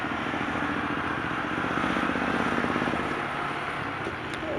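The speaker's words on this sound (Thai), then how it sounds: "เสียงของเราจากนี่ก็รถสกูตเตอร์ไฟฟ้าสบาย" Steady, loud motor drone of a ridden vehicle, a continuous buzzing hum with rattling clatter running throughout, close and without speech.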